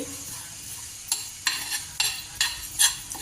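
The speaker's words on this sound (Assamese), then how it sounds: "এই ফ্ৰাই পেনখনত এনেকৈ ভাজি ল'ম দেই" Panch phoron spices are dry-roasted in a frying pan for a sweet olive pickle, with a spatula scraping the pan in about five separate strokes over a faint, steady background and no talking.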